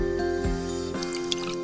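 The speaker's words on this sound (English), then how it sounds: "Pour in the milk." Milk pouring into cake batter in a toy-kitchen pretend-play scene, heard as soft liquid drips and splashes over a steady tonal background hum.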